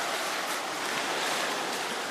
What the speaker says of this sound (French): Une rivière.